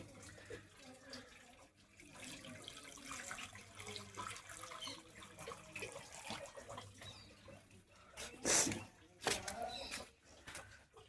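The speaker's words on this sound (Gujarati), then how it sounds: "જુઓ પાણી રેડી દીધું હતું અમારે કમ્પ્લીટ." Water poured across a rooftop terrace for washing splashes and trickles steadily at moderate distance, with a couple of louder splashy bursts near the end.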